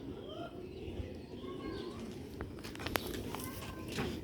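Pigeons coo in soft, repeated rising calls around a park, with a few chirps mixed in. Light clicks and a faint thump come late against a low, steady background.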